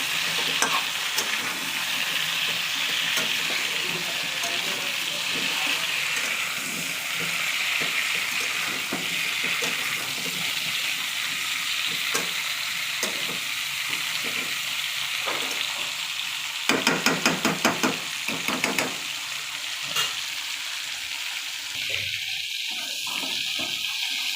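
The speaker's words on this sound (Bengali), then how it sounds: "আলু ডাঁটাটা তেলের উপরে একটু ভালো করে তেলে নেব" Potato and vegetable stems frying in oil: a continuous soft sizzle and hiss with occasional stirring scrapes, and a louder burst of rattling clatter partway through before the frying quiets.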